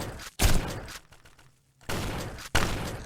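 Shotgun blasts from a realistic first-person shooter game, three heavy booming shots separated by short pauses, loud and up front with no speech over them.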